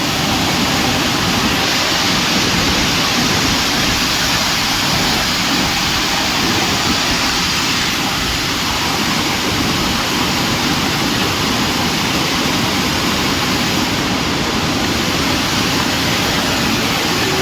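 Mahaloddha waterfall near Nanda village in Parvathipuram Manyam district gives a steady, loud, close roar of rushing water that never lets up and has no voices over it.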